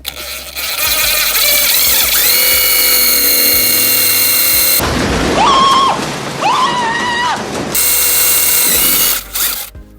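A power drill bores a hole in a Ford F150, its motor whining loud and close in long continuous runs that rise and shift in pitch as the bit bites, then briefly drops and resumes.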